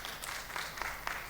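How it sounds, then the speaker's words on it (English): Applause from a conference audience after a talk at a networking meeting, a brief burst of many hands clapping across a room, with a few sharper claps standing out. "Round of applause,"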